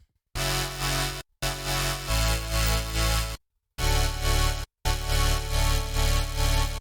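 A pulsing, tremolo-chopped electric tone from a Boss RC-505mkII looper plays in bursts, abruptly dropping to total silence between sections before resuming.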